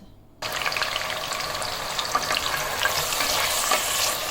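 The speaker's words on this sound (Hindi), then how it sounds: "ये सारी अरवी मैंने इस ऑयल में शामिल कर दी है। अब इसको मैं हल्का सुनहरा होने तक अच्छे से फ्राई करूँगी" Pieces of taro root hit hot oil in a pan, and after a short quiet start a loud, close, continuous sizzle takes over and holds steady to the end.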